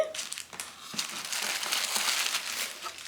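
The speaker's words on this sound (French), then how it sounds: "Alors, petit papier de soie, bon." Tissue paper crinkling and rustling close up during the unboxing of a Louis Vuitton Petite Malle bag, a continuous crackly rustle with a few sharper crumples and no speech.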